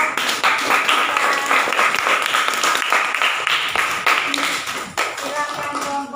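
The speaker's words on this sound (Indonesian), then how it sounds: "Oke, tepuk tangan." Students in a classroom clap together after a group presentation, a dense burst of close handclaps lasting several seconds, with some voices talking and calling out over the clapping.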